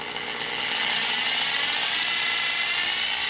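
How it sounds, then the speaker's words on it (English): A power drill bores a hole into a wall with a steady, high-pitched whine that holds constant throughout, heard close by without talk. "And then you're going to want to slowly drill."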